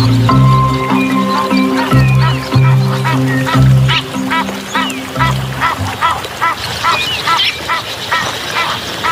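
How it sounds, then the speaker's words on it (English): A pair of Egyptian geese foraging on aquatic plants in a stream, giving a run of loud, close honking and quacking calls in rapid bursts, with a low droning tone early on. "pair of Egyptian geese forages on aquatic plants growing in the stream."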